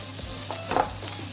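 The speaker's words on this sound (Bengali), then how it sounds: "শিম আলু ভাজি রান্না করতেছি।" Bean and potato bhaji sizzling in a pan, with a soft steady fry and a few scraping stirs, one louder clatter near the middle, close and fairly quiet.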